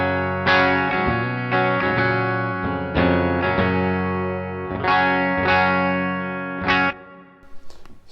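Electric guitar in a clean tone run through an OCD-clone overdrive pedal rings out as several strummed chords that sustain and decay one after another, clear and close, with no voices.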